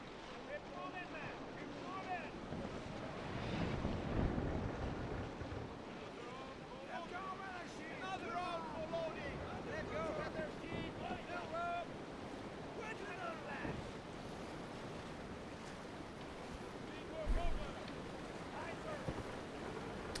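Water rushing and splashing at the bow of a sailing warship in the naval combat game Naval Action, a steady surf-like wash with wind noise and a voice talking over it.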